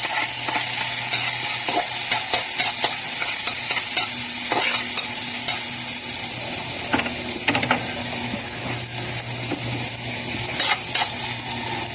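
Garlic (ahos) sautéing in a pan for ginisang tinapa with sardines, a steady close frying sizzle broken by stirring scrapes and clicks throughout, with no talking.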